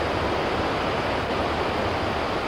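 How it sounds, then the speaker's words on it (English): Horseshoe Falls at Niagara roars in a dense, unbroken wash of crashing water, loud and close, with no voices. "It comes crashing down with a terrific roar."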